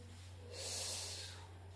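A Pilates instructor draws in one steady, audible inhalation mid-exercise, a soft airy swell that rises and fades over about a second above a constant low hum, with no talking.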